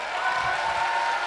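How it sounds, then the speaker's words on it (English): Audience applause in a live show setting, a dense steady wash of many hands clapping at close range throughout, with no one speaking over it. "You weren't supposed to clap yet."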